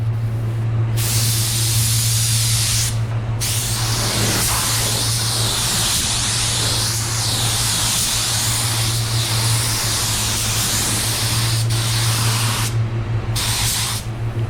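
A spray gun applies water-based paint in an even coat for a two-tone paint job, giving a loud, steady, close hiss that runs almost continuously with a few brief breaks.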